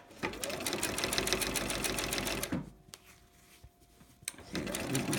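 Sewing machine stitching quilt binding with cotton thread, a rapid steady needle chatter that stops partway for a quiet pause, then resumes close and loud.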